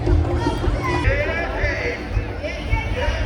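A growing crowd murmurs in a steady outdoor babble at a Canada Day celebration, close voices talking over the general hubbub.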